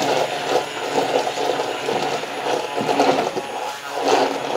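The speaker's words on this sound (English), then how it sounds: "I'm just gonna blitz it with my little trusty hand blender here." A small hand blender froths a matcha latte, giving a continuous buzzing whir with a rough, churning texture that pulses slightly as the liquid aerates, close and loud with no voices.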